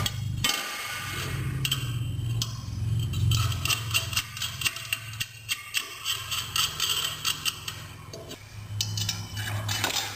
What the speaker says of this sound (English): you're going to put these bolts in and put the nuts on finger tight